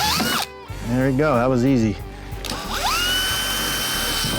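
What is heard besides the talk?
power drill drilling holes in Honda Pioneer 1000 door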